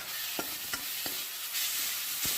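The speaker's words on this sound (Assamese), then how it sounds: "আকৌ লৰাই থাকিম ভালকৈ গোলটো যোৱালৈকে ভাজি ল'ব এইখিনি ভাজি আছোঁ" Steady sizzling of spices and garlic frying in a pan for a bhujiya vegetable dish, with a few sharp scraping knocks from a spoon stirring, close and fairly loud.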